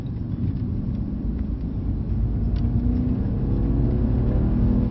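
Ferrari 812 Superfast V12 at Brooklands, a steady low engine rumble and whir that builds slightly in intensity, heard from a moderate distance with no talk.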